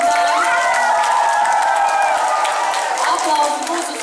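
An audience at a school Christmas show for third and fourth graders applauds and cheers loudly, sustained clapping mixed with children's shouts and tonal voices throughout.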